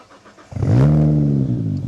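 A 600 hp Nissan R32 Skyline GT-R with a single exhaust exit starts up: a quick crank, then the engine catches and settles into a loud, close idle.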